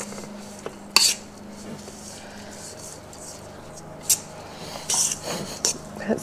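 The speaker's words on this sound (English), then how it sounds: "some chicken stock powder. And we'll give it a big mix" Stuffing being mixed with chicken stock powder in a bowl, heard as a few sharp scrapes and clinks of a utensil against the bowl, with short rustling bursts over a low background hum.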